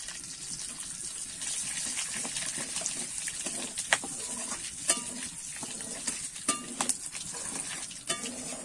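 Whole spices, bay leaf, dried red chillies, whole garam masala, cumin and black peppercorns, fry in melted ghee for a tempering, giving a steady close sizzle with scattered crackles and stirring clicks.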